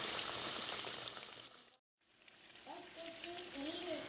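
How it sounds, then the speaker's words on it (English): Potato pirojki patties fry in a pan on the stove with a soft, steady sizzle that briefly drops out, while someone talks over it. "you're going to fry this a couple of minutes on each side until they're nice and golden color"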